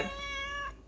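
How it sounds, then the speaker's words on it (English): A single short cat meow, close and clear, rising then fading out in under a second. "that's my cat."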